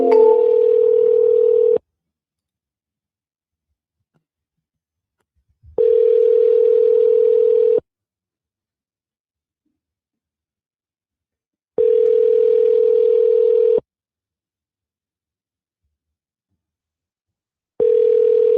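Repeated steady electronic beep tones over a phone line at a voicemail prompt, four long pulses of about two seconds each separated by several seconds of silence, clear and fairly loud.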